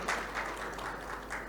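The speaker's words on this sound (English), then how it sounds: "I think they receive a round of applause for such a nice presentation" An audience at a conference session claps after a presentation on carbon sequestration, a brief, fairly faint patter of applause heard from a distance.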